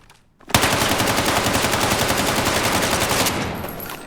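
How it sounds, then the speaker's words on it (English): Sustained automatic weapon fire from a recoil test in the video game Battlefield 6, a loud unbroken rapid burst starting abruptly after a short silence and cutting off near the end, leaving a fading tail. "Let me show you the recoil, which I tested earlier."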